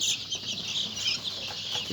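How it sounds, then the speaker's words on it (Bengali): Week-old Egyptian chicks peep and chirp on a poultry farm, a continuous high, fairly faint chorus of overlapping calls with a few low clucks underneath. "আমাদের আজকের ফার্মে মুরগির বয়স সাত দিন"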